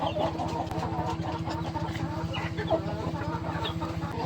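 A desi laying hen being held clucks in quick, rhythmic pulses at close range, over a low steady hum, with no clear talk.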